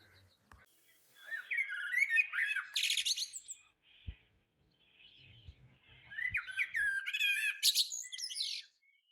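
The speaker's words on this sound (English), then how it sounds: "I'm sure you're in for a surprise when you hear chiff-chaffs." A chiffchaff sings in woodland, delivering two fairly close bursts of bright chirping phrases separated by a short quiet gap, with no talking.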